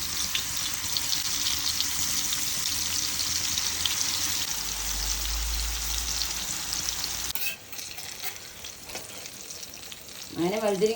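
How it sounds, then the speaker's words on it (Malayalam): Brinjal slices frying in oil on a hot dosa griddle, a steady close sizzle running for several seconds before it drops away and a voice briefly cuts in near the end. "വഴുതിരിങ്ങ വറുക്കാൻ അമ്മ ദോശക്കല്ല് അടുപ്പി വെച്ചിട്ടുണ്ട്."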